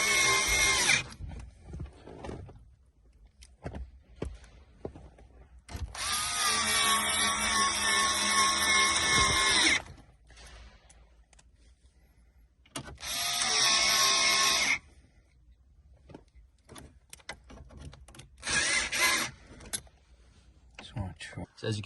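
A power drill drives screws into a Range Rover L405 climate panel bracket in several short, whining bursts, close and loud, separated by pauses with faint clicks and handling noise.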